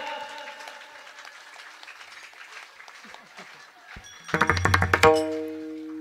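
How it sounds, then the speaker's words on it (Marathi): At a comedy kirtan in Sangamner, singing voices with sustained musical tones give way to a short burst of about half a dozen rhythmic claps in unison from the audience, followed by a lingering held note. "टाळ्या टाळ्या एक साथ"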